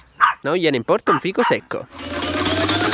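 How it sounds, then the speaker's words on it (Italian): A dog barks at the neighbour's dogs in a garden behind a house, its barking heard after a spoken sentence and then continuing as a dense, steady stretch of noise toward the end. "si è bloccato in questo punto ad abbaiare ai cani del vicino"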